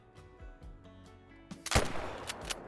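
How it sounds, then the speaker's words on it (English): A hunting rifle fires at a beaver in theHunter: Call of the Wild, one loud, sharp shot that follows quieter rustling and is followed by a fading, rumbling echo. "And that was a brain shot."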